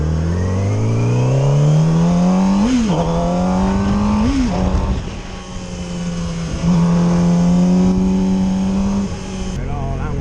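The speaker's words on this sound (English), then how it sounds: "I'm riding a bike with no plate." A Yamaha R6 sportbike with no plate is ridden, its engine drone rising and falling with throttle blips and gear changes, loud and close against wind noise.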